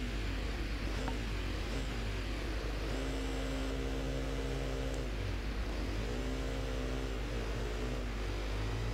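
A motorcycle engine revs at the start of a race in the Ride 2 video game, a loud, continuous droning whine that rises and falls in pitch as the throttle is worked.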